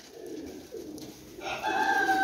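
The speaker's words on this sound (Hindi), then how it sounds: "लो जनाब बटेरा कबूतर 18 पीस, सब यंग कबूतर ने" Young pigeons coo in soft, repeated low throaty phrases close by, with a steady hum and faint higher tones joining in the background.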